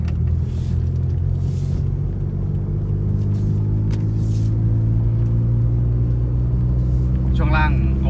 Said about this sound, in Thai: รถขับปกติเลยนะครับ เครื่องจี๊ดๆเลย